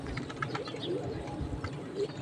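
Young pet pigeons or doves coo softly in a close, low murmur over a steady background, with a few brief soft calls standing out.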